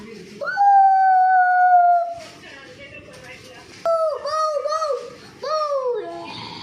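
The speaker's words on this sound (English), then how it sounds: "This is dog." A dog howls loudly and up close: one long, steady, high howl, then a short pause, followed by two wavering, warbling howls that rise and fall in pitch.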